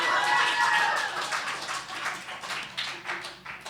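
Scattered audience clapping at a comedy talk, a brief burst of claps and a few cheers that taper off over a few seconds, with no talking.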